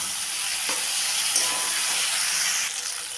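Tengra fish with radish and eggplant sizzles loudly in a frying pan, a dense steady hiss of hot oil with faint stirring scrapes, close up and without voices.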